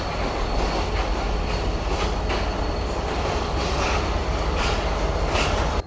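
A Karachi to Sukkur passenger express runs at speed with a loud, steady rumble of wheels and rails. Faint rhythmic clatter sits under the roar, close and continuous, with no voices.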